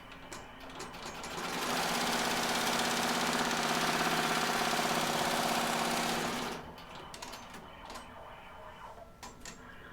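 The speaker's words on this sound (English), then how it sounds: "press the green button, and it's going to sew that locator stitch." An embroidery sewing machine runs a locator stitch, a fast, even mechanical chatter that builds up, holds steady for about five seconds, then stops, leaving quiet room tone with small clicks.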